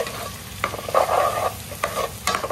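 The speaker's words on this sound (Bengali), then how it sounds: "এটা দিয়ে আমি কুক করে নিব, এই বুনিয়ে নিব ডালটাকে।" Dal is roasted with spices for bhuna khichuri and stirred in a pan, producing a close, steady sizzle broken by several loud scraping strokes of the spatula, with no voices.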